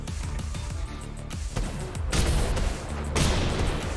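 A video game plays a flurry of gunshots in a fast, irregular volley of sharp cracks and bursts. Some shots land close together and some are spaced out, with a busier, louder stretch toward the end and no voices.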